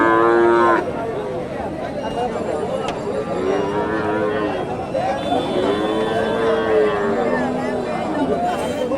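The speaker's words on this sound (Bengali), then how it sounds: "আর এটা গাভী" Cow lowing at a busy rural cattle market in Bangladesh, several drawn-out moos repeating over steady crowd hubbub and nearby chatter.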